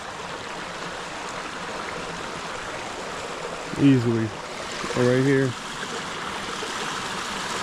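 A New Hampshire river rushes over rocks in a steady, hissing flow that continues throughout, while a person talks briefly over it in two short phrases.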